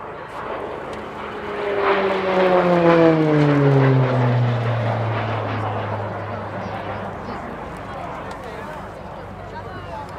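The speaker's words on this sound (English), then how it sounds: "That distinct noise you'll hear throughout the display is the uprated Garrett TPE turboprop engine fitted to the Royal Air Force Tucano by Shorts in Belfast." RAF Shorts Tucano T1 turboprop trainer with an uprated Garrett TPE engine, displaying at Cosford Airshow: a loud propeller drone with a falling Doppler pitch sweep as it passes, fading to a steady hum, under a public-address announcer's voice.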